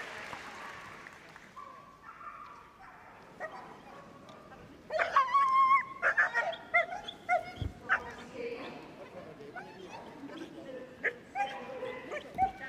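A five-year-old Border Collie at the Crufts 2024 large agility championship gives several sharp, close barks and yips over crowd noise and a commentator's voice, following a quieter stretch.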